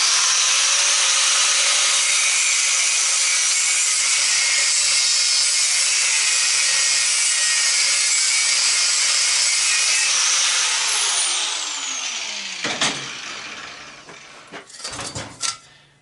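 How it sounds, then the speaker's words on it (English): An angle grinder cuts across the copper wire of a garage door opener with a loud, sustained, close screaming grind that tapers off near the end, followed by a few scraping clunks as the part is handled. "angle grinder and I'm going to make a single cut across that"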